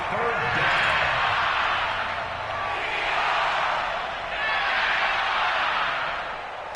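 A stadium crowd roars and swells in waves throughout an NFL football video game, loud and continuous with a broad wash of cheering rising and falling about every two seconds.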